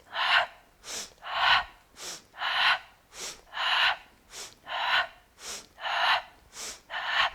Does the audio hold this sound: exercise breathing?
yes